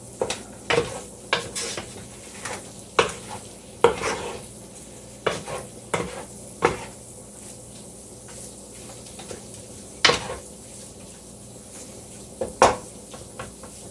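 Sausage grease and flour cook in a pan at medium heat, a low steady sizzle punctuated by intermittent scrapes and knocks of a utensil against the pan, close by and without voices.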